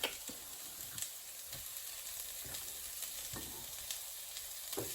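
Chopped pepper and garlic sizzle in a hot pan for a paella, giving a steady bright crackle with a few scattered utensil taps across the clip.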